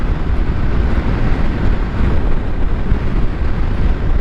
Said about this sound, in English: I am on a test ride on a 2022 BMW R1250